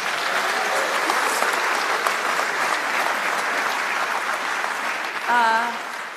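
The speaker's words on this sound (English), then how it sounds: "Can I get another round of applause for our..." Loud, sustained clapping from an audience at a launch event, dense and continuous before fading slightly, with a voice briefly rising over it near the end.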